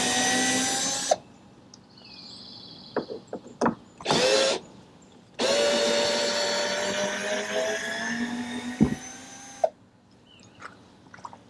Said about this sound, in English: So we start by removing the screws